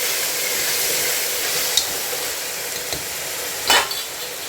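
Ginger garlic paste sautéing in a hot pan for chicken kurma, a steady close sizzle and fry with a few brief scraping stirs, no talking.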